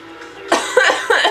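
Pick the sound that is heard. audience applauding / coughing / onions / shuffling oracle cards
coughing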